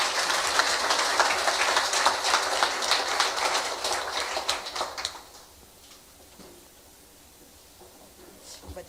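Audience applause at a corporate awards ceremony, a dense steady clapping that lasts several seconds and then fades out into a quiet room with faint murmurs.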